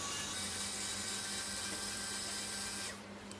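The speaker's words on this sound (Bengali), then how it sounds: "এখন আমি সবগুলো উপকরণকে ভালোভাবে ব্লেন্ড করে নেব" An electric blender runs steadily, whirring close and even as it blends green mango juice ingredients with a little white pepper, then cuts off abruptly near the end.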